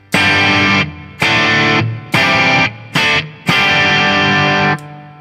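An electric guitar with light distortion, set for a blues tone, strums five gritty chords, each ringing out briefly before cutting off, with short gaps between.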